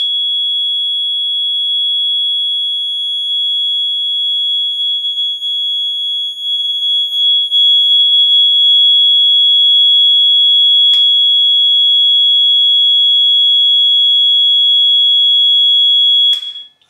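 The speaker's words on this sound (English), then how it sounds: "Now with the horn." A Faraday 6304B fire alarm horn blares a continuous piercing electronic tone, very loud and close, holding steady for the full stretch with a couple of brief clicks.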